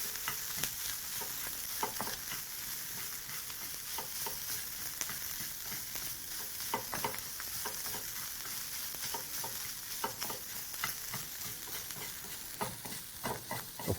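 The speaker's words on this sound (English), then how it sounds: "be sure to also move your mixture around the pan consistently" Beef dumpling filling fries over low heat in a pan, with a steady close sizzle and repeated scraping clicks as it is stirred around, and no talking.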